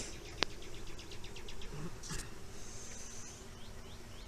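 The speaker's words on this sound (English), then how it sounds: "5 frames of bees with a laying queen." Honey bees humming softly at a backyard beehive holding five frames of bees and a laying queen, a steady low drone with a few brief louder buzzes as bees pass near, outdoors.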